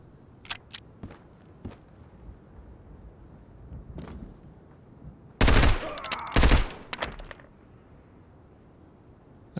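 A Finnish service rifle fires in Road to Vostok: sparse sharp clicks and distant cracks lead into two loud, close bursts of gunfire about a second apart, followed by scattered mechanical clicks.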